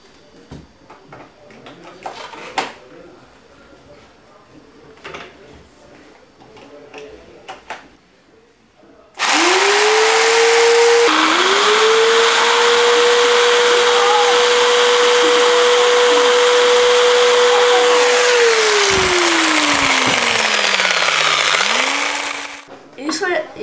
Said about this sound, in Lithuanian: Pamatuosime, kiek elektros sunaudoja grąžtas